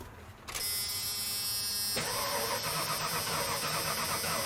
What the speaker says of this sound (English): let's see how it cranks now